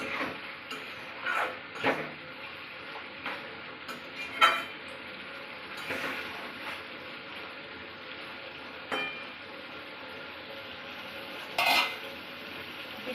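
A spoon scrapes and stirs bhuna khichuri frying in a pot, with scattered clinks and scrapes of utensil against metal over a faint steady sizzle, irregular strokes spaced a second or two apart and no talking.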